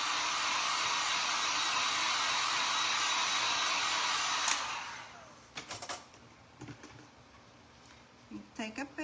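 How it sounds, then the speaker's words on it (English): A hand-held dryer blows loudly and steadily over stencilled paint on a craft project for about four and a half seconds, then switches off. Light tapping and handling noises follow, and there is faint talk. "Come back with my dryer."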